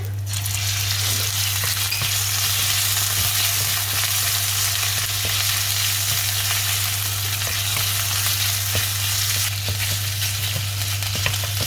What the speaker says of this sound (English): So fry garlic until crispy golden brown. You add bacon,